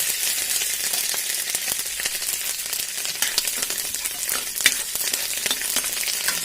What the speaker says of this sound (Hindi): मस्टर्ड सीड्स, थोड़ी सी चने की दाल, अरहर की दाल, कड़ी पत्ता, थोड़ा सा फ्रेश फ्राई करेंगे।